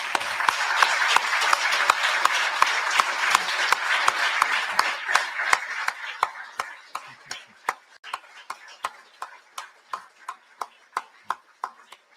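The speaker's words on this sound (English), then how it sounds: "please stand and let's give them a round of applause" An audience applauds military veterans at a ceremony marking the 50th anniversary of the Edmund Fitzgerald sinking, dense clapping that thins out after a few seconds into scattered, slowing individual claps.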